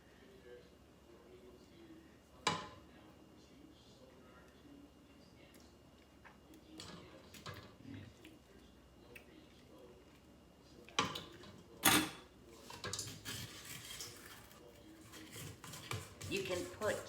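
Brownie batter being spread in a non-stick pan in a home kitchen, with quiet scraping and a few sharp utensil clinks and knocks against the pan, busier near the end.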